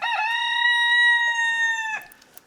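A rooster crows once, loud and close, holding one long drawn-out tone before breaking off, with faint clucks from free-ranging hens around it on a snowy evening.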